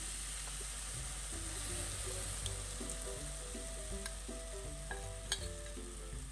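Spice paste for a spicy Kerala fish curry sizzles and hisses in a hot pan while a spoon stirs and scrapes it, a steady close frying sound with a few sharp clicks.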